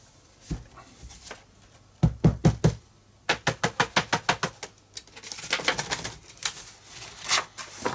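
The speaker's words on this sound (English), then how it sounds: "I'm just going to knock the embossing glaze off the page onto the paper" A page is rapped to knock embossing glaze powder onto paper while making an art journal page: clusters of sharp, close taps and knocks, with quicker rhythmic runs in the middle and a busier patter near the end.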